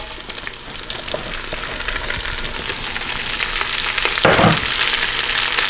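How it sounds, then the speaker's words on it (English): Cabbage hits hot bacon fat in a pan with a steady, close sizzle that grows louder over the stretch, marked by a few stirring clatters and a sharp burst of crackle near the end, with no voices. "I'm going to add the cabbage."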